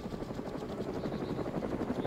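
Steady helicopter rotor chop and engine drone in the survival game DayZ, a dense continuous thrum with fast pulsing blades, close and fairly loud throughout.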